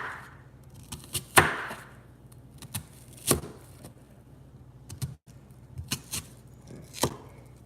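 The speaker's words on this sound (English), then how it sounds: "The onion grooves, cut against them at first, and then you cut towards them." A kitchen knife slices through an onion with sharp, irregular chops, some crisp and loud and others lighter taps, separated by brief pauses.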